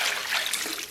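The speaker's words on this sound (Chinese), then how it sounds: "锅里边稍微来点水" Water trickles steadily into a cooking pot holding fresh pig trotters for blanching, a continuous close pouring and splashing sound lasting about a second with no talk.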